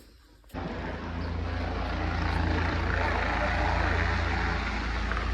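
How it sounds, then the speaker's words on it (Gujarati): A steady, loud engine roar begins abruptly and holds, like a nearby helicopter running at Kedarnath, with a broad droning rumble throughout. "તો અહીંયા બીજું એક હેલિકોપ્ટર આવ્યું છે"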